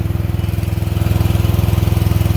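A Cub Cadet XT1 50-inch riding mower's engine runs steadily nearby, a loud low throbbing drone with a fast regular pulse and no talking.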